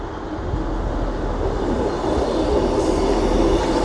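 A British Rail Class 158 diesel train rumbles steadily close by as it departs Chesterfield station, its low engine drone and rolling noise building slightly as it pulls away.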